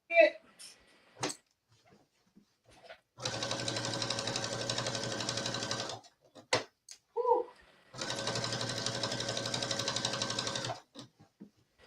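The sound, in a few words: sewing machine stitching a skirt waistband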